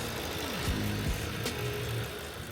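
2018 Range Rover Evoque 2-litre turbo petrol engine idling after a service, a steady, moderately quiet hum under broadband wind noise, with a few brief pitch sweeps partway through.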